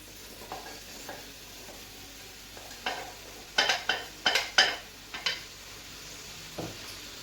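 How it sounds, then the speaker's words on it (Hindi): Cut okra with tomato being stirred and fried in a pan for masala bhindi: a soft steady sizzle under a series of sharp utensil scrapes and clinks, clustered in the middle and tapering off, with no talking. "मैंने जो सारी भिंडी मैंने कट की हुई है वो भी मैं इसमें साथ ही मिलाने लगा हूँ।"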